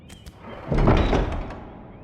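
A heavy door in a Game of Thrones video game swings open with a single low thudding rumble, preceded by faint clicks and trailing off quietly.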